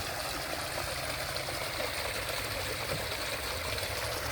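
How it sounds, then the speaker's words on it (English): Water pours steadily down a man-made fountain chute in a botanical garden, a constant, loud, broadband rush with no pauses and no talk. "this man-made waterfall from this fountain."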